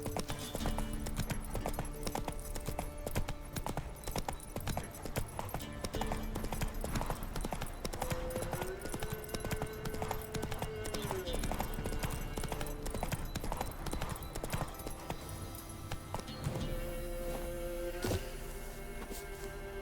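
Roach, a horse in The Witcher 3, trots with a continuous rhythmic clip-clop of hooves beneath game music and ambient sound, steady and moderately close throughout.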